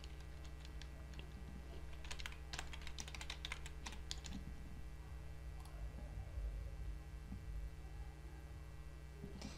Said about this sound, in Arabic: ثم نعيد كتابة الباسورد، ثم نضغط على سبماين.